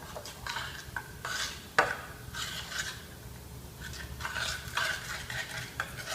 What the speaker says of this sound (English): And then we'll just mix that all together.